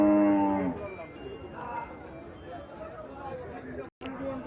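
A Jersey-type dairy cow on a farm gives one loud, close moo at the start, followed by people chatting in the background.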